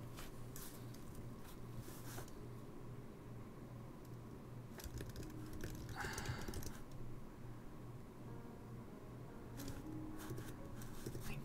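Someone types on a computer keyboard while programming, producing soft, faint, irregular clicks over a low steady hum.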